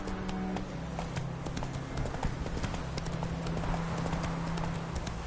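Roach, the horse in The Witcher 3: Wild Hunt, gallops in a steady, rapid clip-clop of hooves that stays close and even throughout, without any talking.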